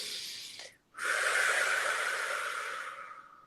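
A long, deep exhale rushes out close and breathy after a brief pause, holding steady before trailing off softly during a guided meditation session.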